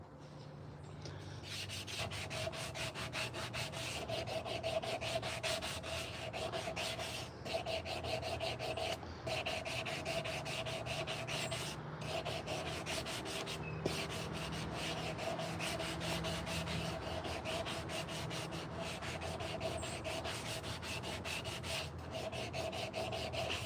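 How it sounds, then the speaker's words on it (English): Steady back-and-forth rubbing of sandpaper on a carved wooden spoon, with a quick repeating rasp and brief pauses between strokes, close and fairly quiet with no speech. "The more sanding you do, it's kind of like almost like you got your wood on a lathe"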